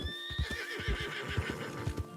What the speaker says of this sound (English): The horse did not like that dead animal on the ground.